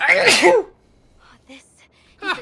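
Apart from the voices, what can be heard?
sneeze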